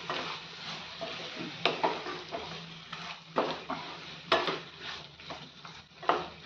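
Peeled, lengthwise-cut bottle gourd stirred into spiced masala in a pan for a Solapur veg dalcha, giving soft scraping strokes with several sharper spoon clinks, fairly quiet and close.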